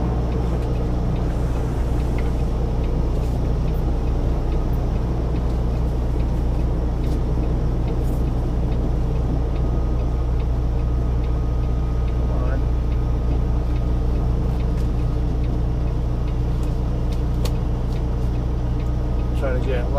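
Tractor-trailer truck idling and creeping in reverse, a steady low diesel rumble running throughout with faint creaks and knocks, fairly close and continuous.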